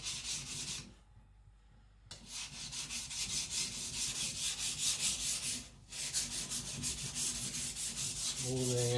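A custom Patrik Carlvik nakiri is ground on a coarse 220 stone in steady back-and-forth scraping strokes, loud and close, with a brief pause near the start and another quick break before the rubbing resumes.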